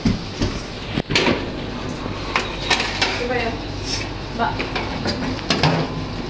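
A cupcake tray with iced cupcake cups is set into a home oven, giving a few metallic clatters and door knocks close by, scattered across several seconds, with no voices.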